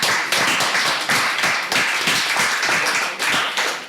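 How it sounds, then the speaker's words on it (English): Audience applause for debate contestants at a Nigerian youth debate competition: a steady, dense patter of many hands clapping at close range, filling the whole stretch evenly without a break. "A round of applause for her."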